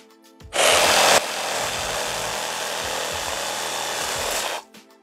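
A TOTAL 20V cordless saber saw cuts through material in one steady, loud burst lasting about four seconds, harsh and buzzing with a sharper attack at the start, then stopping abruptly with no talking.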